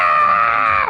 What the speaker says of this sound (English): I love the way Oro screams.